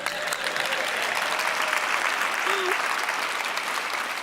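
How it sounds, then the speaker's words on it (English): A crowd applauds steadily and warmly at a live talk event, a dense, even patter of clapping that holds at full strength throughout, with a faint voice briefly audible beneath it. "Hey, a little applause, you guys."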